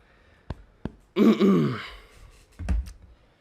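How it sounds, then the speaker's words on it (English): A man clears his throat with a couple of short clicks and then a drawn-out, rough rasp, followed by a shorter guttural burst, all up close. "clear my throat for this one"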